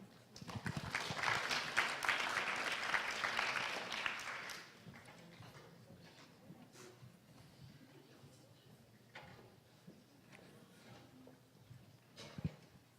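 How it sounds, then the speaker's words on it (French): An audience at a 2018 entrepreneurship contest applauds the finalists with a dense burst of clapping for about four seconds. It then fades into a quieter room with scattered knocks and handling noises. "Vous pouvez les applaudir."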